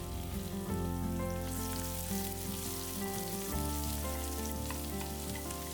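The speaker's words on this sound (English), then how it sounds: "in some oil, I'll add mustard seeds, cumin seeds, and chopped garlic" Mustard seeds, cumin seeds and chopped garlic sizzle in hot oil for chutney, a steady close crackle and spatter with faint popping, under a constant background hum and no talking.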